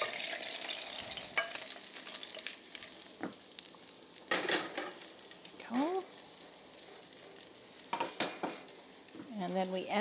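Leeks are added to bacon in a pot and fry with a soft, steady sizzle and crackle, broken by occasional stirring scrapes and clatters and a few faint squeaks, close and fairly quiet.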